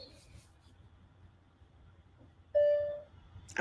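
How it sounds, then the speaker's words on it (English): A door alarm sounds as doors are opened, a single loud steady electronic tone lasting about half a second over a quiet room murmur, followed by a brief sharp clatter near the end. "Y'all hear my alarm keep going off"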